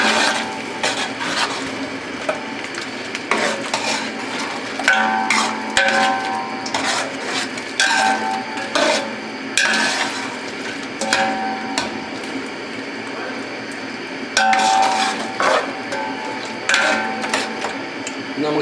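A ladle scraping and stirring coriander powder into biryani masala in a cooking pot, repeated rasping strokes and metallic knocks in an irregular rhythm, close and clear without talk.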